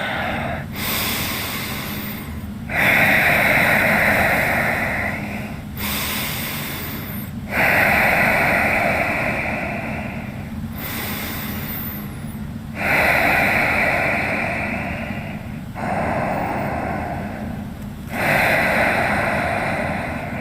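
Slow, deep yoga breaths alternate in a steady rhythm, long hissing inhales and exhales close to the listener, about eight breath phases with brief pauses between, no talking.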